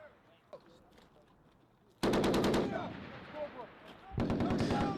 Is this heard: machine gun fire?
yes